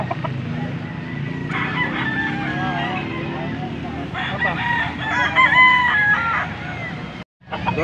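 Roosters at a chicken market in Pampanga crow several times at mid distance over a steady hum of clucking fowl, with market chatter and a brief dropout near the end.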